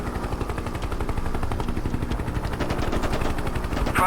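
A Hind attack helicopter's gun fires in a flying-tank combat game: a rapid, continuous burst of shots lasting about four seconds over a rumbling engine bed.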